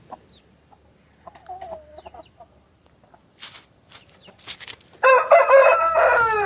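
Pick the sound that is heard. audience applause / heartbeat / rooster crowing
rooster crowing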